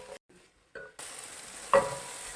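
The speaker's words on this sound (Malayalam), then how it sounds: "പച്ചമുളക് ചതച്ച് ചേർക്കുന്നതാണ് ഏറ്റവും നല്ലത്. ഞാനിന്ന് അരിഞ്ഞിട്ടാണ് കേട്ടോ ചേർക്കുന്നത്. എന്നിട്ട് നന്നായി വഴറ്റുക" Chopped green chillies and onion sauté in oil for prawn biryani. After a few quiet, choppy moments, a steady close sizzle starts, with one sharp metallic clink of a spoon midway.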